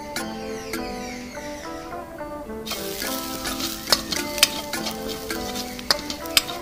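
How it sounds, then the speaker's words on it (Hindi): Corn kernels roast in a pan and are stirred now and then, giving a crackling sizzle with sharp taps and scrapes of a utensil against the metal, and no voices. "इसको हम बीच बीच में चलाते जाएंगे और मक्के के दानों को भूनते जाएंगे।"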